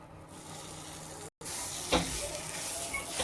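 Khoya kheer and sugar filling being stirred in a pan for sweet singara, a steady sizzling scrape running throughout with one brief cut near the middle.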